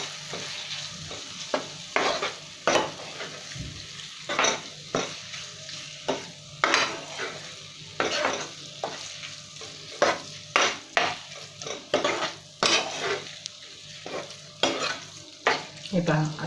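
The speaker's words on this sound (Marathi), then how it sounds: "व्यवस्थित परतून घ्यायची आहे." Prawns stirred and sautéed in a pan for a Maharashtrian prawn curry, a steady sizzle broken by repeated scraping strokes of a spoon against the pan at an irregular rhythm, close and clear with no talking.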